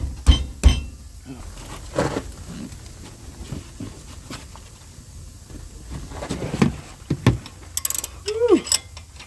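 Metallic clinks and ratcheting from a socket wrench loosening the two caliper bolts on a Honda Civic R18 during a brake rotor job, in short irregular bursts with a few brief voice sounds.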